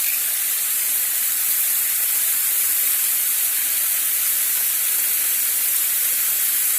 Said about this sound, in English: And just let it kind of saute a little bit.